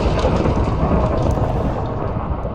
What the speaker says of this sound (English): It struck lightning, caused them to burn, damaged them